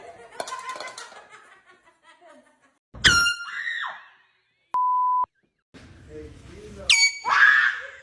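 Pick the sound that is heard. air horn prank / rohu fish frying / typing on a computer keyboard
air horn prank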